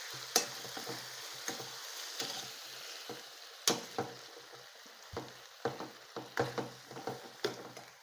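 Cooked jackfruit seeds and ivy gourd tossed together in a pan, giving soft scraping stir strokes and light clinks over a faint steady sizzle, close and quiet, with no one talking.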